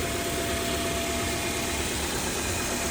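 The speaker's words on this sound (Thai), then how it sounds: "เครื่องยนต์เดินเรียบมากเลย" A 2015 Toyota Corolla Altis engine idles steadily and evenly close by, a continuous low rumble with a faint mechanical whine and no voices.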